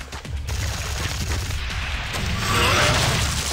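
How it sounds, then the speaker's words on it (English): Rapid nail gun fire in the video game Sanctum 2, a dense continuous burst of mechanical shots over a low rumble, loud and steady throughout. "The freaking nail gun's pretty amazing."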